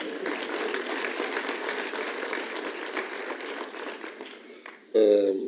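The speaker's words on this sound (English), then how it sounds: "Can we please give him a hand of applause?" Audience applause at a national orders ceremony, dense clapping held steady for several seconds before fading, then cut off by a sudden loud tonal burst near the end.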